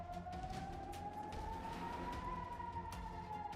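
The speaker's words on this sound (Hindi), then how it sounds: "जैसे ही सेंट्रल इजराइल में सायरन बजे" An air raid siren sounds in central Israel as a single steady, slowly rising wail that carries over faint road and traffic noise, heard from a distance.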